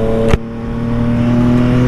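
A Yamaha MT-09 motorcycle engine drones steadily while riding, a loud, even hum with one brief sharp knock near the start and no talking.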